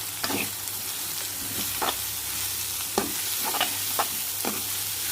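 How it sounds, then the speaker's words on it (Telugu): Tender tamarind leaves frying in a curry with dried shrimp, a close, steady sizzle with occasional spoon scrapes and stirring knocks against the pan. "చింత చిగురు 1 నిమిషం వేగనిద్దాం"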